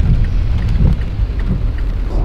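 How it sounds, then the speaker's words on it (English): Heavy pouring rain on a foggy, muddy mountain downhill bike trail at about 3 degrees, a steady close wash of drops with low rumbling underneath, no voices. "It's super foggy, pouring rain"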